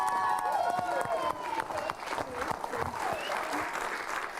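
Audience applause and cheering on a television finishing-school reality show, a dense patter of clapping under music and a reacting viewer's talk.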